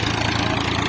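A Swaraj 963 4x4 tractor, a 65 hp model, runs steadily in a farm field while pulling a leveling scraper, its engine giving a loud, even, close-up drone with a throbbing low-pitched hum.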